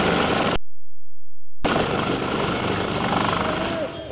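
A helicopter's steady rotor and engine drone fills the clip, loud and close, cutting out briefly before resuming and fading slightly at the end.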